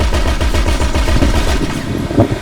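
Rapid automatic gunfire from the video game GTA V during an assault on a military base, a loud continuous burst of evenly spaced shots with no talk.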